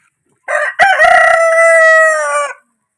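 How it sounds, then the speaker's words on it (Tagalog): A single native chicken rooster crows loudly and close by, one long drawn-out call lasting about two seconds with no other sounds around it. "May pumupunta ditong native na manok."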